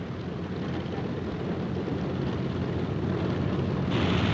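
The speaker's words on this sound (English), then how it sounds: "Plane handling crews bucked the propeller blast as they moved the aircraft into takeoff position." A 1944 propeller fighter plane roars steadily as crews move it into takeoff position, a dense, loud engine drone with prop blast and wind rush that swells slightly toward the end.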